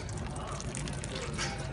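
Water is poured onto a waterproof motorcycle air filter, a steady close splashing and trickling that fills the whole short stretch with a broad, even wash of liquid noise.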